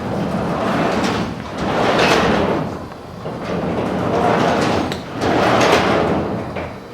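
A heavy sliding door in need of repair rumbles and grinds along its track several times, loud and close, in long rolling sweeps.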